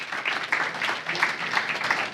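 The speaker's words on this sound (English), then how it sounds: "Can we get a big round of applause for Tas Dimos" An audience at an investor evening applauding a speaker, a short burst of brisk clapping from a room of people, fairly dense and even, lasting a couple of seconds with no voices over it.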